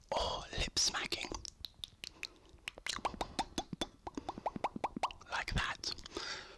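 Close, soft ASMR whispering at the start and end, with a run of quick, crisp lip smacks and mouth clicks between, intimate and quiet.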